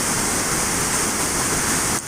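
Porter Brook in flood, floodwater rushing and crashing in a constant loud broadband roar close by, with no pause.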